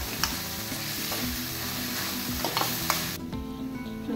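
Spring onion stalks and green chillies sizzle loudly and continuously in a hot oiled pan, with intermittent scrapes and stirring knocks from a spatula throughout.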